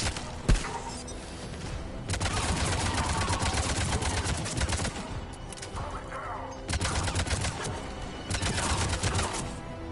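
Cerberus troops open fire in Mass Effect 3, loud rapid bursts of automatic gunfire that rattle in long sustained volleys with short lulls between, close and dense, with voices faintly under the shooting.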